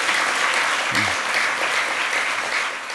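An audience claps at a Buddhist gathering in Korea's National Assembly, attended by the Jogye Order patriarch: dense, sustained applause from many hands, loud and even throughout.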